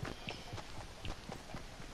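Players run in the Fortnite video game, their footsteps coming as a rapid, faint patter of soft thuds over a noisy game background, with no one talking.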